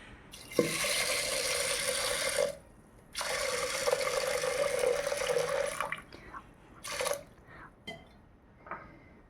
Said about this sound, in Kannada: ಆಮೇಲೆ ನೀರು ಹಾಕ್ಕೋಬೇಕು